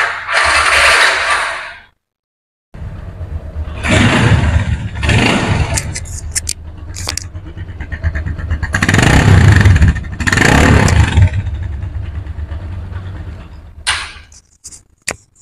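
A second-hand Discover 135 cc motorcycle engine idles close by, then revs in repeated throaty bursts, with a brief silent cut near the start and a few clicks at the end.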